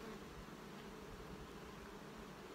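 Honeybees buzzing steadily around beehives in spring, a continuous close drone with no pauses and no voices over it.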